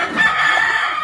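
Chickens at a rural provincial property let out a loud, close, sustained cry that sounds like a rooster's crow or a hen's cackle, filling the whole short moment.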